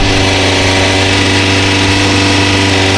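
A rally car engine holds a high, steady idle at elevated revs, loud and close, a constant buzzing drone with no change across the whole short stretch.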